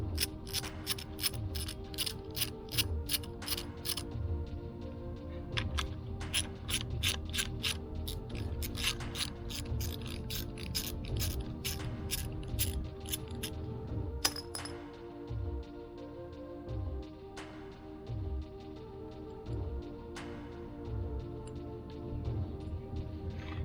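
A hand ratchet backs out the two 10mm screws on the detent plate of a BMW E30 G260 transmission, giving rapid bursts of close, crisp clicking separated by pauses and light metallic clinks, with no voices.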